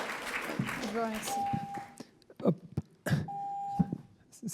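An electronic timer beeps as a steady tone, once briefly early and again later, among coughing, throat clearing and speech in a conference room.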